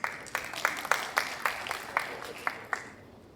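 Audience applause at a TiE Global TiECON event, heard as a sparse, rhythmic run of individual claps fading over a few seconds, fairly quiet and distant.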